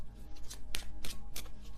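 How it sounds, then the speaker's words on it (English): Brisk riffling of a tarot card deck, several quick papery bursts in a row, close and moderately quiet over a low steady hum. "I could shuffle this deck."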